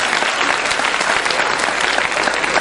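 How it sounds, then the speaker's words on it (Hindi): Dense audience clapping fills a large gathering of children and parents at a religious discourse in Vidisha, loud and steady for a short burst with no voices over it. "ये तालियां किसके लिए बजा रहे हैं"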